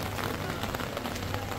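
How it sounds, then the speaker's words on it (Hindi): Heavy rain pours steadily on a college campus, a dense continuous hiss of drops spattering across surfaces, close and even throughout with no voices. "तो गाइस आप देख रहे हो कितनी बारिश हो रही है।"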